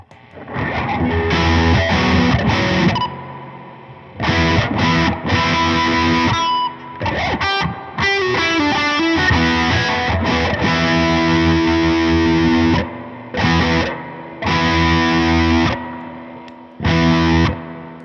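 A distorted electric guitar on a humbucker bridge pickup, played through a Morning Glory v4 pedal, plays chords and short riffs in bursts with pauses between, heavily effected and textured, close and loud.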